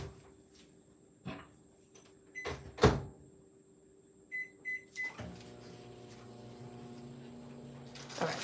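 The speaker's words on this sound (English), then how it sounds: "So we're going to start to melt this down in the microwave." A microwave oven used to melt butter and marshmallows: door thuds and clunks, three short keypad beeps, then the steady humming drone of the oven running, with no speech.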